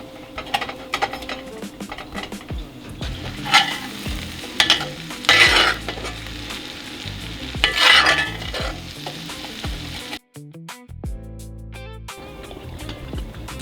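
Vegan steak sizzles in a pan with garlic and rosemary, a steady close frying hiss broken by bursts of stirring and scraping, with a short pause and a few clinks near the end.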